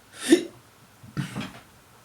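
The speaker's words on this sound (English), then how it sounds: "and hiccup." Two short hiccups, the first a sharp, breathy yelp and the second a softer, lower catch about a second later, close and alone in a quiet room.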